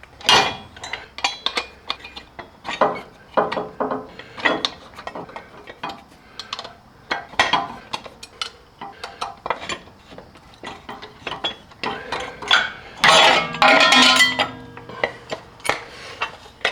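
A fitting on an air bag helper kit for a RAM 2500 pickup is tightened down, producing a busy run of metallic clinks, ratcheting clicks and tool knocks at close range, with a denser burst of clatter near the end.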